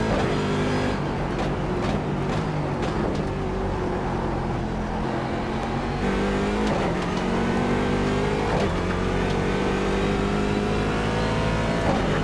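A C7 DP race car engine on new tires drones loudly in iRacing at Okayama, a steady high-pitched roar rising and falling through gear changes and revs, with no talking.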